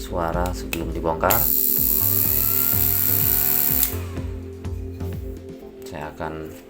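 A homemade PDC stun device, not yet taken apart, gives a loud, steady high-pitched electrical buzz lasting a few seconds. A voice talks before and after it.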